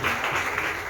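A church congregation applauding together, a dense, steady wash of clapping that holds at an even level for about a second with no voices above it.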